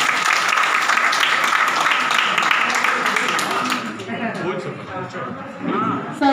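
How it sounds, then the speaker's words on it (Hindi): Applause at a construction workers' welfare scheme meeting: a full, loud crowd clapping for several seconds that gradually thins out, with talking taking over toward the end. "ताली बजा दो सर के लिए।"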